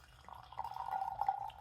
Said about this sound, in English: Let's pour it into the cider salon glass, shall we?